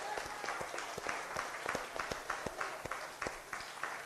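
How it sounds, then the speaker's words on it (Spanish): Church congregation clapping in a bilingual service, a mix of sharp individual claps over a softer continuous patter of applause, moderately distant and fairly steady throughout. "let's clap and give them a hand"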